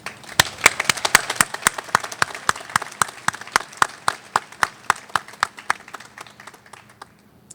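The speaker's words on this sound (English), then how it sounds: "I would like to ask everybody to give a big round of applause to your dads today." Applause for dads at a UCLA chemistry and biochemistry commencement: close, sharp individual claps in a quick steady rhythm over a thinner spread of audience clapping, dying away toward the end.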